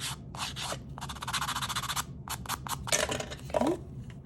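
Sanding the edges of a handmade craft tag: close, steady rasping strokes in short rhythmic bursts with brief pauses, loud and dry, no talk over it.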